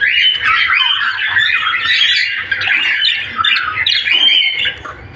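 A dense, continuous chorus of budgerigars squawking and chattering, many birds close by, shrill and busy without pause.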